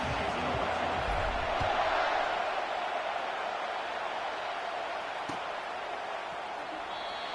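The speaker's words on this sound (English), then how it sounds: "Listen to the crowd energy here in the early going." Stadium crowd noise in a college football video game, a steady broad roar of cheering fans early in the game, fairly even and continuous with a slight swell near the start.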